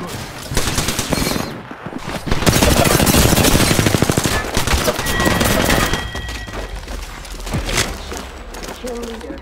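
Loud rapid machine-gun bursts and gunshots crackle through a shooter video game battle, with a sustained automatic volley mid-way and scattered shots and thuds around it, mixed with game voice chatter.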